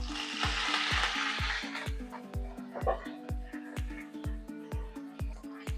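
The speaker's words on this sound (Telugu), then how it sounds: "పోపులో ఆవాలు, జీలకర్ర, మినపప్పు వేసుకోవాలి." Mustard seeds, cumin and urad dal crackle and hiss in hot tempering oil, loudest at first and then fading beneath a steady rhythmic thumping beat.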